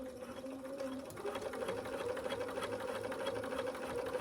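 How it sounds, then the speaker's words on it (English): A sewing machine hums steadily at close range, its needle stitching a rolled hem on a formal dress in a fast, even rhythm with no pauses. "we just take one more pass with the sewing machine right on top of that rolled hem"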